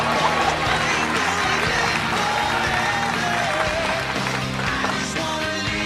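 A live studio audience at an Indonesian talk show applauds steadily, a dense, loud wash of clapping that holds without a break, with music and crowd noise mixed underneath.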